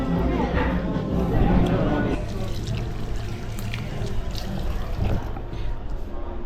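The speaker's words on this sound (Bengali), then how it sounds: "হাত ধুয়ে ফেললাম" Running water pours steadily from a tap as hands are washed, a continuous close splashing trickle with a voice talking over the start.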